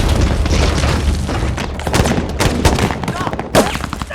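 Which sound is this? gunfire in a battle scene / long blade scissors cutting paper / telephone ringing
gunfire in a battle scene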